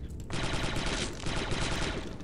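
Rapid blaster fire in the Star Wars shooter Republic Commando, a loud continuous burst of shots that starts abruptly and runs without pause to the end.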